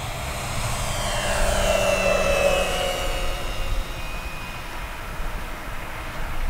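An E-flite EC-1500 RC airplane makes a low pass, its motor a steady whine that rises and falls in pitch as it sweeps past at moderate distance over outdoor wind noise.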